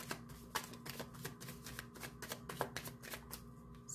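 A deck of tarot cards is riffled and shuffled steadily up close, a fast run of crisp flutters and clicks without pause.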